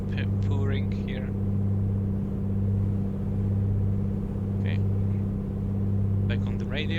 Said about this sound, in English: Now this is the sound of the engine I like here, just purring here.